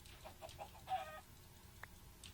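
A chicken in a Minecraft (FTB) world gives a few short, faint clucks in quick succession against quiet game ambience.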